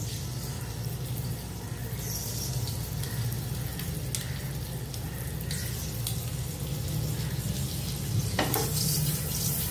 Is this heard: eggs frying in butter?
yes